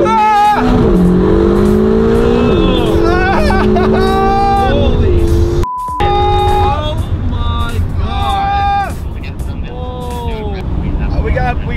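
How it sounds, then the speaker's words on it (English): A Ferrari California T engine fires up and revs repeatedly, loud and close, with rising and falling whines as excited voices talk over it. "Turn the key on. Engine start."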